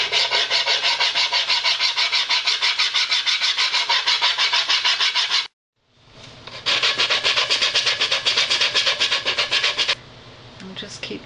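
A mahogany block rubbed back and forth on 120 grit sandpaper glued to glass, loud rhythmic rasping strokes in two long runs separated by a short pause, very close.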